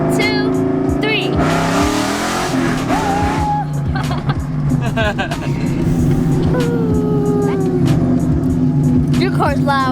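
A Mustang on nitrous roars loudly up close, its engine revving and accelerating hard in a sustained surge, with excited voices talking over it throughout.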